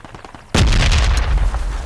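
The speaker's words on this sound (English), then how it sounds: "Okay, I'm gonna blow up their crate." A loud explosion erupts suddenly as an enemy crate is blown up in the military shooter Project Reality, a sharp blast followed by a long rumbling, crackling tail with scattered debris.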